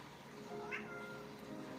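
A cat meows once, a short clear call standing alone over a steady low background hum.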